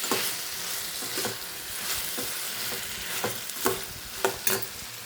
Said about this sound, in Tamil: லைட்டாக இஞ்சி எல்லாம் போட்டு கல் உப்பு எல்லாம் போட்டு லைட்டாக வதக்கி விடணும்